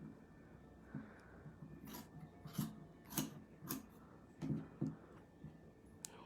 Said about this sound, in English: Take my bigger scissors and cut it across.